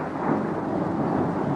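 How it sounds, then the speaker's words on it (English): Thunder during a storm, heard as a low, continuous rumble that holds at a steady moderate level throughout, with no voices. "It's thundering."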